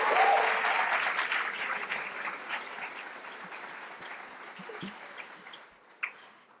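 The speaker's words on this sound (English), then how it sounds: "can we give him a round of applause?" An audience applauds after a speech at a health conference, loud clapping at first that gradually thins and fades out over several seconds.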